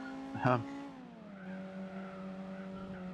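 Race cars in a racing video game roar with steady engine whine, a sharp tire-squeal and impact burst early on as a car glances off a wall and other cars, then the engine tone settles and drops.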